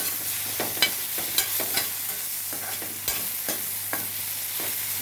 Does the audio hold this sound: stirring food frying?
yes